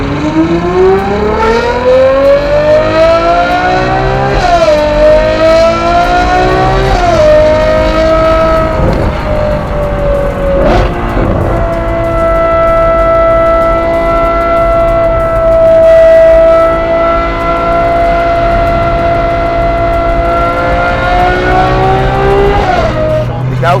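A Ferrari 812 GTS revs loudly up close, its exhaust rising and falling through several sustained climbs and drops in pitch with a brief sharp blip midway, the engine note dominating throughout.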